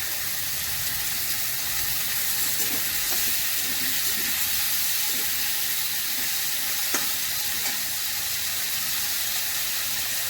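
Grated ginger fries in a pan with a continuous soft sizzle and hiss, a few faint stirring taps now and then, close and steady with no voices.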